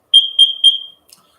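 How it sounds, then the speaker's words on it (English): An alarm goes off with three quick high-pitched electronic beeps, close and loud, then silence. "My alarm's going off."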